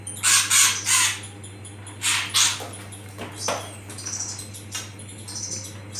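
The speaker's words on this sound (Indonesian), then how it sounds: "ini burung setelah gue terapi masih tetap bunyi" A caged magpie robin nearby, treated for wing-feather plucking, lets out harsh, raspy calls and short chattering notes in uneven bursts, over a constant low electrical hum.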